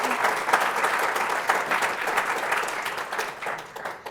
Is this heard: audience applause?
yes